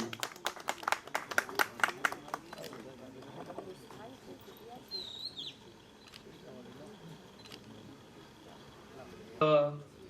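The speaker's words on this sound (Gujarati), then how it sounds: "જોરદાર તાળીઓથી વધાવજો." An audience at a village honouring ceremony claps in a short burst of applause that quickly thins into scattered claps, followed by quiet murmuring and a brief noise near the end.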